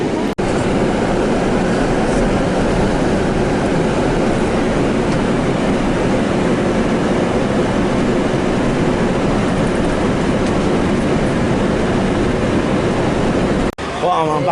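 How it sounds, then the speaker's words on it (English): Steady broadband rumble and road noise from inside a moving coach bus travelling to London, continuous and loud throughout, ending abruptly near the end. "I'm back in London and I managed to get the coach again."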